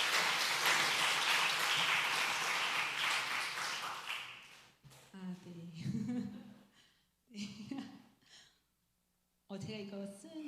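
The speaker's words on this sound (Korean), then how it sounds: "자, 박수 한번 해주세요." A church congregation at a Sunday afternoon service bursts into loud sustained applause for about four seconds, fading out before someone speaks in short bursts separated by brief silences.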